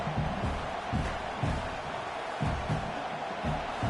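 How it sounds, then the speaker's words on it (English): A football stadium crowd roaring and cheering, a dense continuous wall of noise with steady rhythmic chanting or stomping pulses, loud and distant-sounding as a broad mass. "this crowd is fired up. Listen to this noise here"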